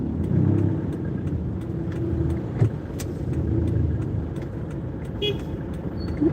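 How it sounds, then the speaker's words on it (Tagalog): Car horns give short toots amid steady roadway traffic rumble heard from inside a vehicle in slow, congested traffic, with a few brief honks scattered across the stretch. "Busi-busina ka pa, nakasignal lang ako."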